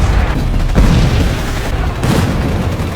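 Heavy booms from a drone bombing strike on the ground in Ukraine in a TV spy drama, with two strong explosions about a second apart over a dense, rumbling battlefield backdrop.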